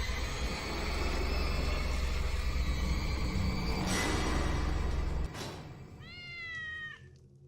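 A cartoon cat meows in the video game Tales of the Neon Sea, a few short meows rising over a loud rumbling train-like game background that drops away near the end, leaving a final clear meow.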